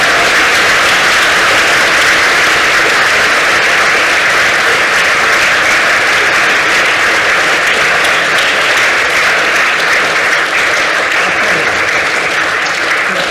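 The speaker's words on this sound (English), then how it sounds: "So a big round of applause." Sustained, dense applause from a lecture audience in a hall after a physics talk on the James Webb Space Telescope, loud and even from start to finish with no voices over it.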